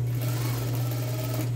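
Sewing machine stitching fabric for women's shorts, a steady close mechanical hum with a fast even whir that runs unbroken throughout.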